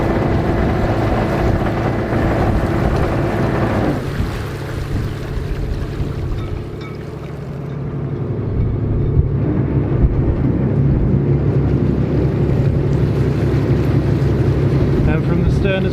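Powerful boat thruster rated at 20 horsepower, a steady low engine drone with wind buffeting that deepens and grows louder partway through, while a voice talks over it.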